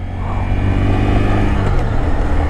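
A motorcycle engine pulling hard in second gear, a loud, close, steady droning roar with low rumble, revving evenly under the rider without talk.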